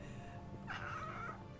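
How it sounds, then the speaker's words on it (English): A cat gives a single short, faint meow that rises and falls over steady background hum, heard alone without talking. "can you hear him meow?"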